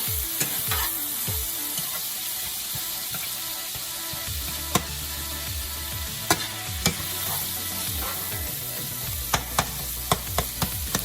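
Corned beef with sweet pepper and onions stirred and frying in a pan, a steady sizzle under repeated scraping and clanking strokes of a spoon, with sharp knocks near the end.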